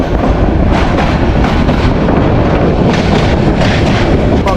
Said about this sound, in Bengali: আজকে একদম এগারোটা দুই মিনিটে আমাদের ট্রেন ছেড়ে দিয়েছে আর ট্রেন কিন্তু এখন যাচ্ছে এয়ারপোর্টের দিকে